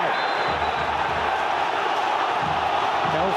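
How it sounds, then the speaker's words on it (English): A packed football stadium crowd at a Watford versus Everton match bays loudly for a red card, a steady, dense wall of shouting and jeering with no breaks. "The crowd baying for blood, baying for a red."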